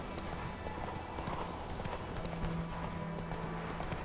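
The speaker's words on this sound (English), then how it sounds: "Oh, sorry, Roach. I didn't notice your stamina." Horse hooves in The Witcher 3 video game, a steady clip-clop of quick hoofbeats at moderate distance, running continuously under a soft background tone without talking.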